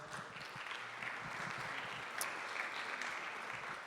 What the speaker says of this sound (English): so give her a hand of applause as well.